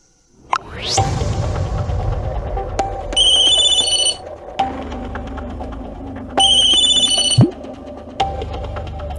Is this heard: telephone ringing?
yes